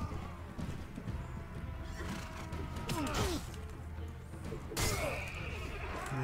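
Horse whinnying and hoof clatter in a French-language medieval video game, A Clash of Kings mod, heard amid a dense, busy game soundscape with mechanical clanks and a sharp crash near the end.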